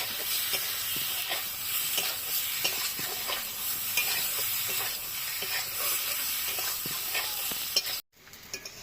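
Ground cumin, coriander and turmeric are sautéed in a pan for a Bengali koi fish curry with potato and eggplant, giving a loud steady sizzle with repeated scraping stirs, which cut off abruptly near the end.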